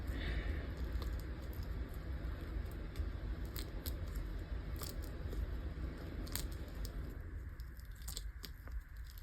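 A freshly cured crystal silicone coaster mold is gently peeled away from its sides, giving faint, continuous soft crackling and sticky tearing sounds up close with a few sharper ticks.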